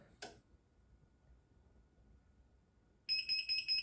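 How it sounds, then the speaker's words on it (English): Heat press timer on a BN20 beeping in quick repeated electronic pulses, loud and close, starting abruptly after a faint click and near-silence. "One thing about this timer is it starts to go as soon as you barely move the handle."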